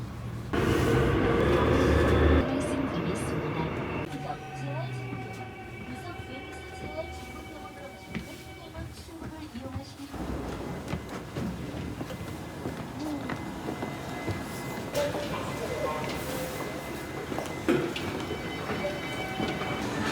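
A subway train in Korea rumbles and hums along the track, a steady mechanical roar with squeals and clatters, while voices murmur faintly in the carriage.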